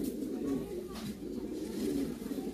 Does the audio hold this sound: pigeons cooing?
yes